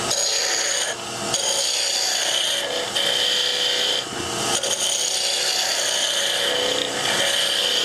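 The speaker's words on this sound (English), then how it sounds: "Then I can use my spindle roughing gouge." Rough scraping and rasping of a spindle roughing gouge cutting a wood spindle on a lathe, continuous and close with brief dips as the tool lifts off the spinning workpiece.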